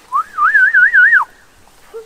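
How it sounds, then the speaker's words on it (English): A person whistles one short warbling phrase close by, the pitch wobbling up and down for about a second before fading into near silence on a calf farm. "How do you whistle?"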